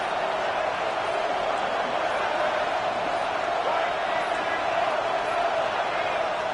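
A packed stadium crowd at a college football game with the Hokies on the field, a steady, dense roar that holds loud and unbroken throughout, with no clear breaks or peaks.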